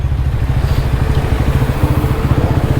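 Several adventure motorcycles set off in a line for a Republic Day ride through Ommala forest, a loud, close, throbbing engine rumble pulsing steadily throughout with no talk.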